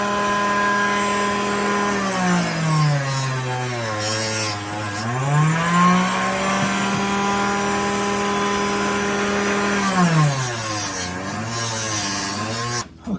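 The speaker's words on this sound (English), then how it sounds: "clean up these blades on that fiber wheel before I install them" A motor-driven fiber wheel spins while knife blades for a Case XX Trapper are cleaned on it, its steady whine dipping in pitch and swelling again as the blades are pressed against it.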